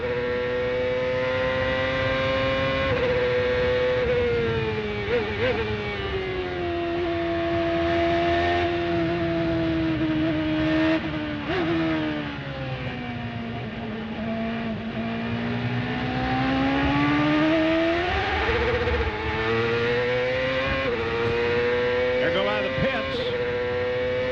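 An onboard CART race car engine at Portland in 2001 drones loudly and continuously while the throttle is fed in gently, its pitch sagging and rising in slow sweeps, with a commentator talking over it.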